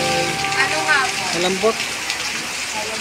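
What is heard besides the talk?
heavy rain falling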